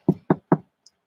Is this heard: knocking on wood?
yes